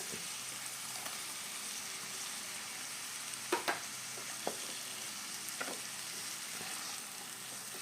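Cooked green peas and cauliflower samosa filling frying in a pan, quiet steady sizzle broken by a few sharp spatula knocks and scrapes, no speech.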